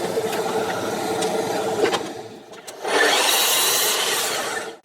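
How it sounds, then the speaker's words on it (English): A sander rounds off the edges of a wooden piece for a workshop paper dispenser, first with uneven rubbing strokes and pauses, then with a steadier, louder abrasive whir. "I'll just use a sander over these."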